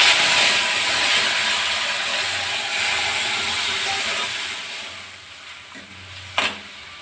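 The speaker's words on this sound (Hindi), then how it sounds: "अब मैं दाल को तड़क लेती हूँ" Hot tempering (tadka) hisses and sizzles steadily as it is poured into dal, the bright crackle slowly fading over several seconds, with a short metallic clink of a utensil near the end.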